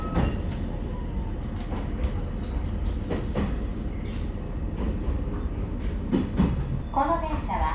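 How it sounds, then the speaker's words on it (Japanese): A Tohoku Main Line local train bound for Fukushima pulls away from a station platform in Sendai, with rumbling wheels, clicks and rattles, and a platform announcement spoken over it. "名取、岩沼、白石、藤田方面普通列車の福島行き、まもなく発車いたします。"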